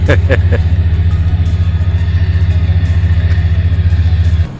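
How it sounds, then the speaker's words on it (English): Dredging boat engines make a loud, steady low roar with a rapid pulsing throb that holds for several seconds, then drops off at the end. "Hear those freaking engines roaring."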